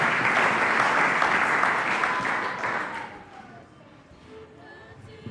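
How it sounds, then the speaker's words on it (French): A church congregation at a French-language service applauds in praise, a dense wash of clapping that fades after about three seconds into quieter room sound and a few faint voices. "Acclamons pour la gloire du Seigneur."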